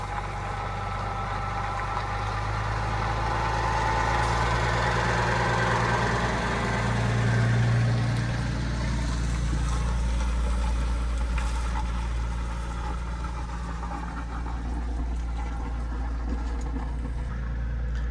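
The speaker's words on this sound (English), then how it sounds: "Here comes another truck." A truck's diesel engine idles steadily at a loading dock while the rig backs in, a low, even rumble with a slight swell midway and no talking.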